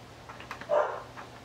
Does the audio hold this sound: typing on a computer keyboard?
no